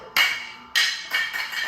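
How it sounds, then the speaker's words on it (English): A plastic juicer pusher drops and clatters on a hard surface in several bright, sharp knocks that come close together and sound close by, with no one talking. "I dropped my pusher"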